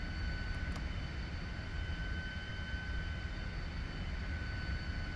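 A Lockheed T-33 Shooting Star jet engine in Microsoft Flight Simulator 2020 drones steadily during takeoff, a faint, even roar with high whining tones and no talking.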